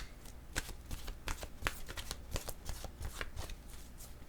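Oracle cards are shuffled close up in a quiet room, with a quick irregular run of soft papery riffles and flicks and no talking over them.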